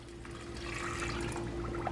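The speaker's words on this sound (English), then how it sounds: "And then we're gonna pour in the 2 cups of water." Two cups of water being poured into a pot on a stovetop while making an apple cranberry sauce, a steady moderate splashing fill with no talk, over a low constant hum.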